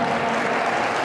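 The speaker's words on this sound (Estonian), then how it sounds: "Ja teeme siis aplausi siis mõlemale võistkonnale." Applause from the audience for both women's volleyball teams at an award ceremony in a sports centre, a dense, steady burst of clapping with no voices over it.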